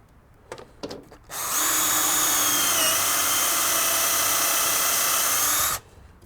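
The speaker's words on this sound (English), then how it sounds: "And we're just going to start drilling" Power drill boring holes into a log for growing shiitake mushrooms, a steady loud whine held for about four seconds after a few brief knocks, then stopping abruptly.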